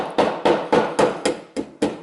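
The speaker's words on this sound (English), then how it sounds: "I take my hammer and I carefully hammer that" A hammer strikes a drill bit wedged in a car engine's piston hole seven times in an even rhythm, each blow a sharp, close metallic thud that quickly dies away.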